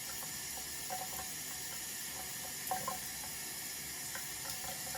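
A bathroom tap runs steadily into a sink, a constant close hiss and splash of flowing water with small gurgles, no talking.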